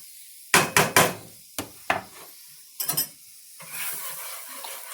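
Ingredients cooking in a hot pan until light brown: a few sharp scrapes and knocks of stirring against the pan, then a steady close sizzle that builds toward the end.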